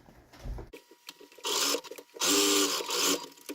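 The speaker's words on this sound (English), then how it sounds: "I'm going to stitch across the bottom here." Sewing machine stitching across the bottom of a fabric laundry bag: short bursts of rapid mechanical whirring, separated by quiet gaps and small clicks, the longest run near the end.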